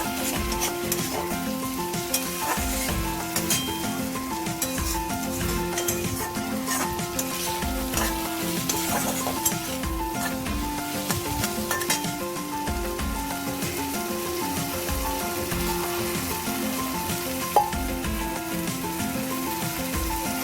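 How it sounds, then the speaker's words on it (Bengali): Fried spice paste with water added for a katla fish curry sizzles evenly and continuously at moderate loudness, with a faint steady tonal hum underneath and no one speaking. "আমার মশলাটা কষানো হয়ে গেছে, এবার আমি জল দিয়ে দেব।"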